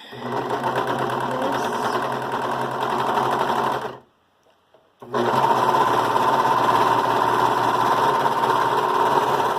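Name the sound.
Brother 1634D serger sewing a dog sweater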